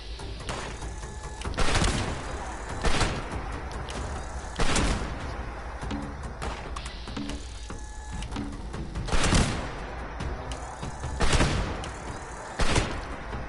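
A Gauss shotgun fires in the video game Fallout 76, with loud, sharp blasts repeating every second or two over constant low game ambience.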